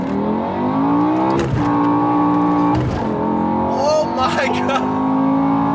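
A BMW E60 M5 with its exhaust valves open, revving hard through an SMG transmission. The engine note is loud and close and rises and falls in pitch across several sharp revs, with excited voices speaking over it.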